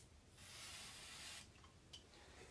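Cleaner hisses in a steady spray onto an AR-style rifle bolt for about a second, followed by a brief second spurt, all fairly faint and close.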